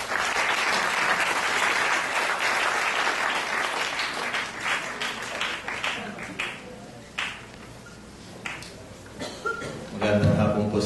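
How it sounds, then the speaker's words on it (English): Applause from the audience at an environmental leadership forum, a full dense burst that breaks into scattered individual claps and a few chuckles before swelling again at the close. "Ladies and gentlemen, a warm round of applause for Mr. Raul Soc Valenzuela."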